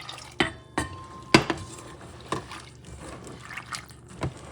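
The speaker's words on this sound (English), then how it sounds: "first you're going to put some water on it," Cold tap water poured onto dried red beans in a pot, with a short run of clinks and splashes and a light liquid trickle between them, close and moderately quiet, no talking.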